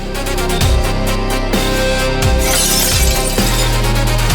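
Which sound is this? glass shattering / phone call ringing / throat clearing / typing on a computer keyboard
glass shattering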